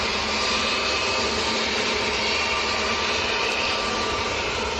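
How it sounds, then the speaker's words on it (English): A Pilatus PC-12 single-engine turboprop arriving across the far side of Manchester Airport, heard as a dense, constant engine roar with no breaks and no talk. "That is a PC-12 that's just arrived on the other side."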